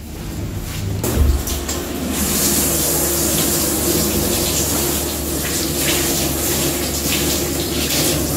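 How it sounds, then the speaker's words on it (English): Water runs steadily from a tap while hands are washed beneath it, a continuous close splashing hiss with a brief knock near the start, no talking. "So we'll just wash our hands now."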